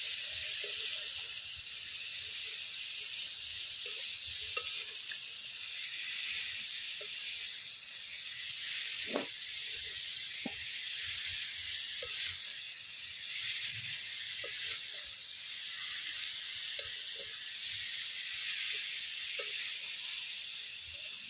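Country chicken sautés in a pan with red chillies and rock salt, giving a steady, close, continuous hiss and sizzle with occasional small pops and stirring knocks.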